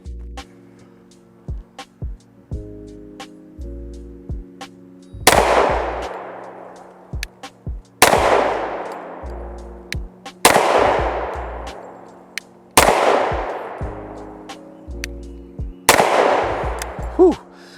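Five sharp, loud pistol shots from a Sig P226 in .40 caliber fired at 10 yards ring out at roughly even intervals, each with a bright crack and a decaying echo, over a steady background hum.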